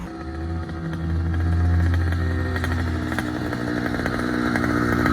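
80cc motorized bicycle engine buzzing at close range, raspy and two-stroke-like. It builds in loudness and then holds a steady rattling drone with no talk.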